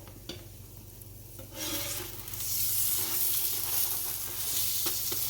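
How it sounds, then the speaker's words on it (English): Trini dosti paratha roti cooking in oil on a hot pan: a quiet start with a faint hum and a light tap, then a loud, close sizzle swells up and stays strong through the rest, without any voices. "We'll put some more oil on this side now. You can see it's flaking apart even while it's cooking there."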